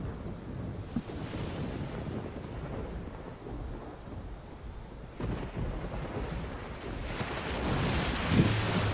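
Rushing water pours over a dam in a video game, a continuous heavy roaring wash with deep rumbles, steady and moderately loud, swelling toward the end.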